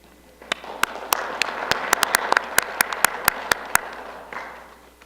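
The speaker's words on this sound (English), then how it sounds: "give a round of applause for our local EMS teams" Town council meeting audience applauding local EMS teams, a loud steady round of clapping with sharp individual claps standing out near the front, fading off at the end.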